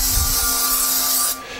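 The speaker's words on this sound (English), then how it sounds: "So just spray it generously." Cooking spray hisses from an aerosol can onto a bundt pan for gingerbread cake, one close, loud, continuous burst that cuts off abruptly near the end.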